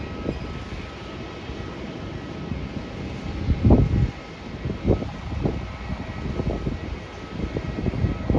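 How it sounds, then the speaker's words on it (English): A Qantas airliner arriving from Singapore lands, a broad distant roar of jet engines with a swelling rumble partway through and intermittent low thumps, steady and moderately loud with no talking. "Flight from Singapore just landed."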